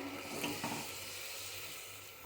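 Tomatoes sautéing over a high flame in a pan for egg biryani give off a faint, steady sizzle with a soft broadband hiss and a few light stirring scrapes near the start.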